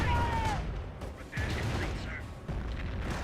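Artillery barrage in Company of Heroes, several dull booming impacts at spaced intervals under a faint game background, with whistling shells and a voice faintly present.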